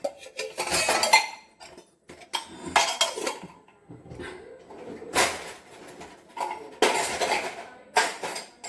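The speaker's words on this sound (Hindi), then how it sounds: "मैं बर्तन को फटाफट रख देती हूँ।" Metal dishes and utensils being put away in a home kitchen, a series of loud, close clattering and clinking bursts with brief pauses between handfuls.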